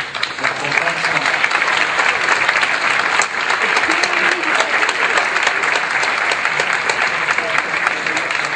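An audience at a criminal law symposium applauds to welcome a speaker, a loud, dense, continuous round of clapping that fills the room throughout.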